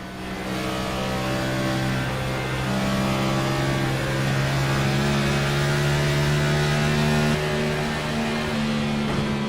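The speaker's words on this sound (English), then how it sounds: "Let's listen to his throttle work in the middle of the corner." Race car engine at Dover in a racing game, heard from on board as the driver works the throttle mid-corner: a loud, sustained droning note that holds steady with small swells, continuous throughout.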